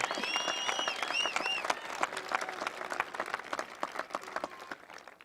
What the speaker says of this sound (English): Give one more round of applause, please, to all those people who helped you through